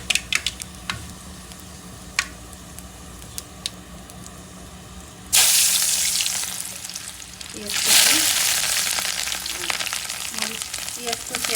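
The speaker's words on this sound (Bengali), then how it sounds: "একটু পাঁচফোড়ন দিয়ে দিলাম" Panch phoron spices hit hot oil for a Bengali-style fish egg curry, bursting into a loud, bright sizzle that swells, eases briefly, then surges again with crackling pops, after a few quiet clicks and taps.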